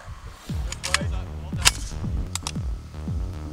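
A machine gun mounted on a robot dog fires several sharp, loud shots in an irregular sequence, each crack trailing off into a booming echo.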